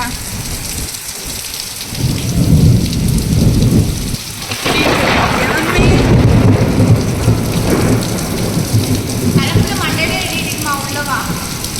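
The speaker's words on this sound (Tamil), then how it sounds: "மின்னெல்லாம் அடிக்குது தம் அப்படின்னு ஒரு சவுண்டு கேட்கும்" Heavy rain pours steadily with rolling thunder rumbling through it, loud and continuous, a sharper crack-like surge midway through the downpour.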